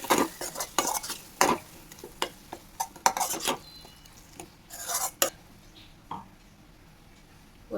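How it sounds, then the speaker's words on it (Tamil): Ground coconut paste is sautéed with onions in a pan for egg salna, with a utensil scraping and stirring in irregular clattering bursts over a faint, close sizzle and no talking. "இது கொஞ்சம் வதக்கி விட்டுக்கோங்க."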